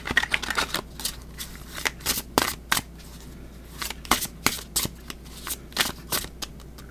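A deck of tarot cards is shuffled by hand in quick, crisp riffles and slaps, close and clear, repeating in irregular bursts with no talking.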